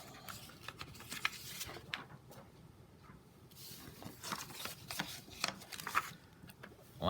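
Sheets of paper are flipped and handled up close, giving soft, irregular rustles, crinkles and brief flutters over several seconds at low volume.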